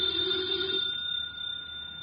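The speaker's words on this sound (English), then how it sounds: "Should never ignore a phone call." A telephone bell rings steadily in a quiet room, close, fairly soft and continuous for about two seconds with no one speaking.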